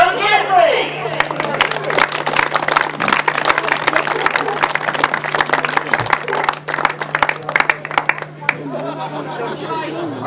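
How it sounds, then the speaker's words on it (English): Crowd applause and chatter at an outdoor grasstrack motorcycle meeting, steady dense clapping for about eight seconds with a low constant hum underneath, tailing off into voices near the end. "an extra round of applause and a very well done to number 4"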